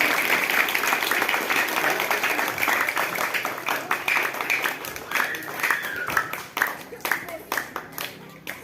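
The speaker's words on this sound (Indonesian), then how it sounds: "Tepuk tangannya untuk Fitri" An audience at a school language-month festival claps for Ibu Fitri Widyati, a full round of applause that thins into scattered individual claps by the end, with faint voices underneath.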